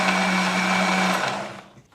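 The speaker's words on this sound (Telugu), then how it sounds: "సో ఇప్పుడు మిక్సీ పట్టేద్దాం." A mixer grinder whirs steadily as it blends a chia seed smoothie, a loud continuous motor whine that runs for over a second and then spins down and stops.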